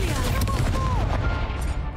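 Incendio fire spell in Hogwarts Legacy, a whooshing, crackling burst of magical flame with gliding tonal sweeps, mixed with busy game noise under a voice speaking.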